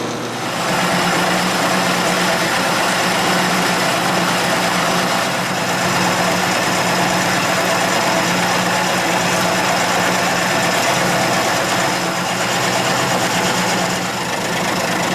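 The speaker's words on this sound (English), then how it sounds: "This is my last pass with the end mill." A milling machine runs steadily as an end mill takes its final pass, a loud continuous motor hum with a whining cutting tone throughout, no voices.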